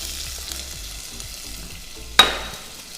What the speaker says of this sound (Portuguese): eu vou colocar a manteiga para derreter.